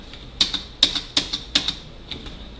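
Several crisp computer keyboard keypresses, about six distinct clicks spaced unevenly over a couple of seconds, close and fairly loud against a quiet background.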